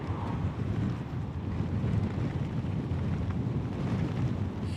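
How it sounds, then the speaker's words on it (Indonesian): Strong wind buffets a rider on a motorbike, likely an electric one, a steady loud rushing roar that fills the whole stretch with no pauses. "anginnya kenceng banget ya"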